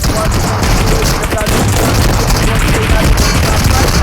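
Gunfire from the ace gun in a battle royale video game tournament: dense, loud, rapid bursts and booming shots packed together without a break across the whole stretch.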